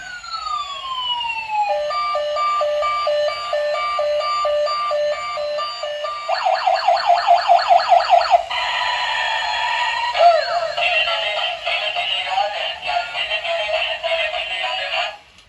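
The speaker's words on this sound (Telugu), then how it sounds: "పోలీస్ హార్న్ కూడా చూసారా రియల్ గా ఉంది కదా" A toy police car siren wails and warbles continuously, cycling through several electronic siren patterns with beeping tones, loud and close, with no talking.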